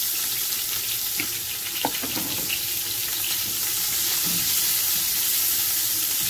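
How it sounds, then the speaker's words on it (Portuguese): Chopped onion fries in rendered pork fat in a pan, a steady close sizzle with a few scraping stirs and small clinks partway through, no voices. "Vamos fritar essa cebola. Não precisa pôr mais gordura não, mais óleo não, tá?"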